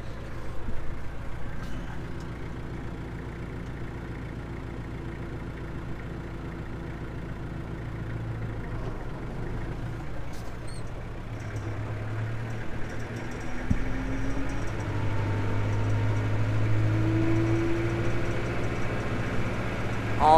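A tractor engine revs up to 2,000 RPM in low fourth gear during first-crop hay harvest in the woods, a steady loud drone and low rumble that swells louder toward the end, with no talk.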